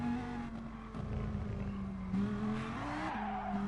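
A race car losing grip at Spa in an endurance racing game, tires squealing and skidding over a steady engine drone, with the engine pitch shifting as the car slides, close and sustained.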